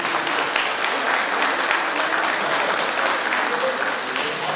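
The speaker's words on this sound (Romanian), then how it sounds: "mulțumesc pentru aplauze" Sustained, dense applause from an audience at a cultural show in Ungureni honouring couples married fifty years, loud and even throughout with no voices over it.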